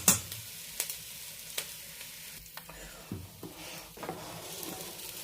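Shallots sizzle in melted butter in a pan for rice, a steady soft frying hiss broken by several sharp stirring clacks and scrapes, close and fairly quiet with no talking.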